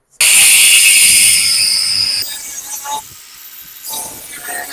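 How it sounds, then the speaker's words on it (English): An angle grinder grinds metal off in a workshop, starting abruptly with a loud, high whine that shifts pitch as it bites and eases, throwing sparks. "Just gonna take the grinder and grind it off."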